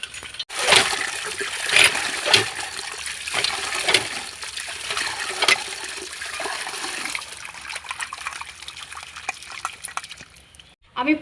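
Small jiyel fish being rubbed and rinsed by hand in water, with splashing bursts and trickling pours early on, then a softer continuous wash of running water fading near the end.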